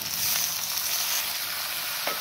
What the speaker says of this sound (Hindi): अब मैं इसमें टमाटर डाल दूंगी।